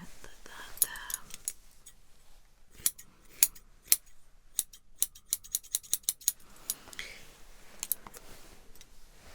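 Scissors snip hair during a relaxing ASMR haircut, a run of crisp close clicks and cuts in bursts, with soft whispering between them.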